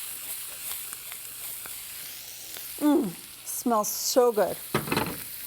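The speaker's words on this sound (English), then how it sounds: "Let's mix all this together." Shrimp, onion and chili are stirred together in a hot pan. A soft sizzle and scraping run under a few short spoken remarks.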